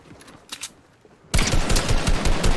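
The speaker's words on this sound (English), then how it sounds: "I'm not shooting your build down, I'm shooting you." Rapid gunfire from the Fortnite video game bursts in suddenly after a few quiet shots, a loud, dense, continuous volley with no talk.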